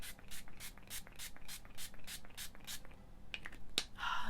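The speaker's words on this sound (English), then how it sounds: "This is the All Star Face Setting Spray" ColourPop All Star face setting spray is spritzed in about nine quick, evenly spaced hissing pumps, close and fairly soft, followed by a few lighter clicks and a final longer hiss.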